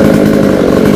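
A chainsaw runs loud and close under heavy load while cutting through a dry coconut palm trunk beside a roadside fence, a steady buzzing roar with no pauses.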